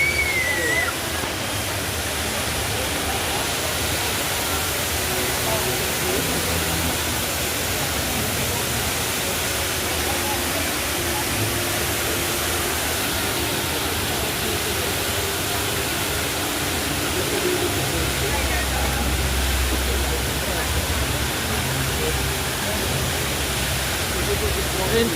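Indoor waterfall at Jewel, Singapore Changi Airport, pouring as a steady, dense rushing roar that stays constant throughout, with no breaks or changes in level.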